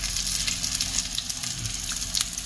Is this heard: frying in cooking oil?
yes